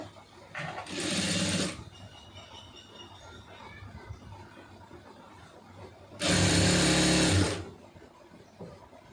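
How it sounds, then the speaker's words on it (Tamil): An electric sewing machine stitches a sleeve lining in two loud bursts, a short run near the start and a longer one later, with quiet handling in between. "இப்போ இதில் வந்து தையல் போட்டுருங்க"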